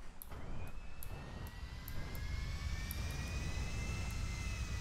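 Jet airplane engines in the GTA video game roar continuously with a rising whine, a steady broadband rumble topped by high turbine tones that climb and hold, with no talking over them.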